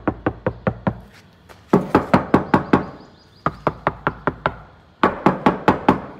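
Knuckles rap on a Mahindra XUV700 car door fitted with three-layer sound damping, giving crisp, dull knocks in quick bursts of four to six, repeated in several groups, close and with nothing else heard.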